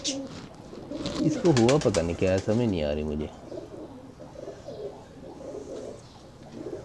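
Pigeons coo in a series of throaty rolling calls near the start, loud and close, followed by a person talking over quieter indoor noise.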